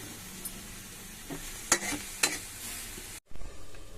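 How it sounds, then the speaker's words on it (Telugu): Cabbage chutney frying in a pan is stirred with a few sharp scrapes over a soft steady sizzle, close and moderately quiet, with a brief gap near the end. "ఇంక ఇది మధ్య మధ్యలో కలుపుకుంటూ ఉందాము."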